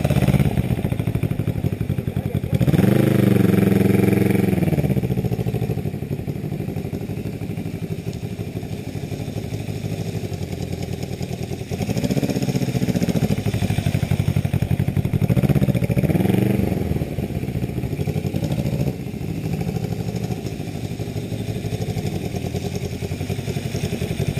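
Restored 1966 Honda CB77 motorcycle engine runs close by, revving up in several bursts between steadier idling stretches, with mechanical clatter throughout.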